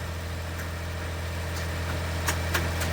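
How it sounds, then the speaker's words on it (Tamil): A generator runs steadily nearby during cabin alteration work, giving a constant low droning hum with a few faint clicks on top and no voices. "ஜென்ரேட்டர் சவுண்டு தான் மக்களே கொஞ்சம் டிஸ்டர்பன்ஸாக இருக்கும்"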